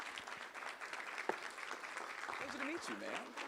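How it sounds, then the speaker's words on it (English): Audience applause at a UNCF State of the HBCU address, a faint steady patter of clapping throughout, with a voice talking over it near the end. "please put your hands together. You can start clapping."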